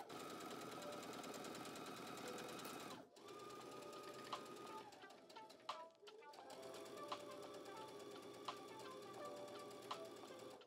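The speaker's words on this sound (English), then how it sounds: "it's time to take it over to our sewing machine and sew a straight stitch on both sides" A sewing machine runs a straight stitch on silk fabric in steady rapid bursts, pausing briefly between runs, with a few sharp clicks from the mechanism.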